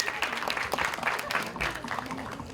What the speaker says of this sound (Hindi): एक बार जोरदार ताली होनी चाहिए अनुराग के लिए